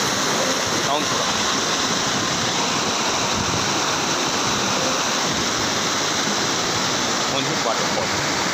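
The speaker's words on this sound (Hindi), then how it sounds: "और ये वाटरफॉल।" Honhed waterfall near Keshkal pours in a steady, dense roar of falling water that fills the whole scene without a break.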